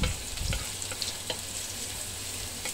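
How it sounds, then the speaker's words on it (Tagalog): Garlic sautés in hot oil in a wok after ginger, a loud dense crackling sizzle with a few faint spatula scrapes. "So after nan, mag-gisa tayo ng bawang."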